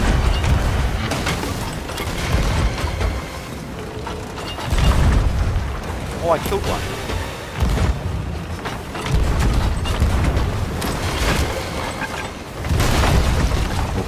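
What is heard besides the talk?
cannon fire in the video game Sea of Thieves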